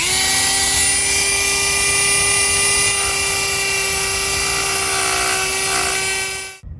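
A power tool with its speed turned slightly down whines steadily at close range while sanding curb rash on a new truck wheel. The steady high tone holds for several seconds, then cuts off abruptly.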